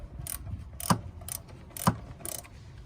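A ratchet backs out the cam oil plug bolt on a 2000 Toyota Camry engine, giving several quick clicking bursts in an even rhythm, close and moderately loud.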